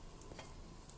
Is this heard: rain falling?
no